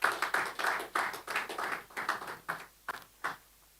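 Scattered clapping from a small seminar audience greets a pitch presenter, a short burst of claps that thins into a few isolated, uneven claps as it dies away.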